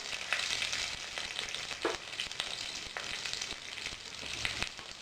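Curry leaves and asafoetida sizzle in hot oil, a bright, close spattering hiss with quick sharp pops scattered across a few seconds.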